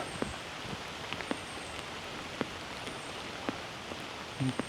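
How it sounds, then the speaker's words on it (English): Steady rain patters down, with scattered individual drops tapping a surface over a constant wet hiss. "rain's getting a little heavier"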